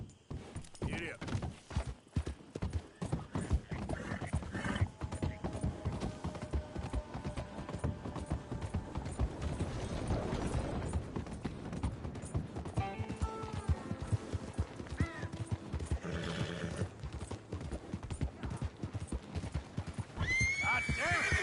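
Horse in Saint Denis in Red Dead Redemption 2 gallops with rhythmic clip-clopping hooves, neighing loudly at times over busy town and mechanical background noise.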